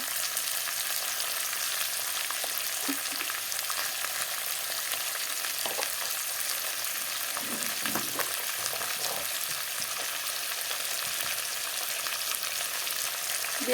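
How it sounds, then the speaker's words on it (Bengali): Potatoes frying in hot oil in a pan, a steady, dense sizzle that holds evenly throughout, with a few faint utensil knocks underneath and no voices. "এখন আলুগুলোকে ভেজে নেব"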